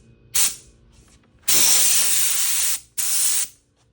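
Compressed air blasts from a Kobalt 26 gallon Quiet Tech air compressor's blow nozzle: a brief puff, then a loud sustained hiss for over a second, then a shorter burst, all close and without talk.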